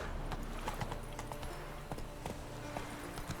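Horse hooves gallop in a fast, steady clip-clop rhythm as Roach runs in The Witcher 3 video game, close and clear over a low background bed.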